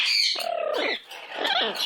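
A pet bird gives harsh, raspy squawks in two bursts, close and fairly loud, with a short quieter gap between them.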